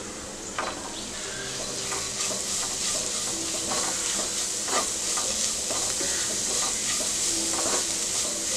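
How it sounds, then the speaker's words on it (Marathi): Spice masala of white sesame, turmeric, chilli powder and grated raw mango sautés over low heat in a pan: a continuous close sizzle with soft, repeated stirring scrapes throughout. "आता मंद आचेवर आपण चांगलं हे परतून घेऊया मसाला सगळा"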